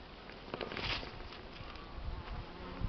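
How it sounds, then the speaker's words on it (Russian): Honeybees buzz steadily around the entrance of their hive early in the season, many returning with loads of hazel pollen; a dense, continuous hum of many wings close by, with no voices. "Почти каждая пчела с обножкой."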